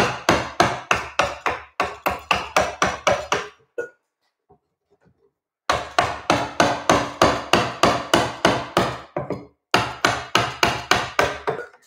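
Repeated sharp strikes of a carving tool driven into Fijian mahogany in a workshop, splitting the timber along the grain; loud, quick rhythmic blows in bursts, with a pause of near silence midway.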